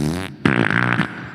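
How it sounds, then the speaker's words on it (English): A fart with audible reverb, a short buzzy burst followed by a longer, louder reverberant rasp, echoing slightly as in a room; no speech over it. "I get a little reverb on the fart there."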